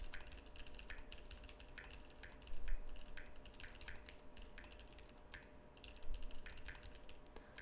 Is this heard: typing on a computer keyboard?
yes